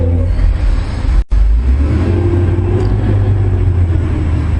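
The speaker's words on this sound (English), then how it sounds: "Garbage truck just went by." A garbage truck drives past outdoors, a steady loud low engine rumble filling the whole stretch with a brief dropout early on, and no one talking.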